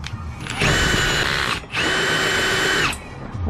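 A power drill with a 2 inch hole saw bores into a door during an Lenca Auto Glide installation, whining loudly in two sustained bursts separated by a brief pause.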